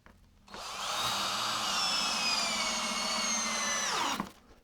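A power drill drives a screw into wood framing during kitchen insulation work, one continuous close whirring run of about four seconds that spins up, holds steady, then stops, with no talking.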